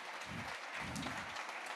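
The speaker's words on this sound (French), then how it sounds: "Encore un tonnerre d'applaudissements pour Maxime." Conference audience applauds a presenter after a talk on building an autonomous agent, soft and fairly distant clapping that rises and falls in waves.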